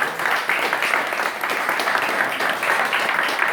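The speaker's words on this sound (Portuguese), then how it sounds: "Palmas para o mestre." Crowd applause for a capoeira master at a Candomblé and capoeira gathering in Brazil, a steady wash of many hands clapping at even loudness throughout, without speech.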